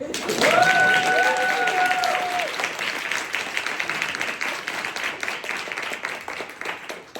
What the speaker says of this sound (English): Y'all can go ahead and clap for me now.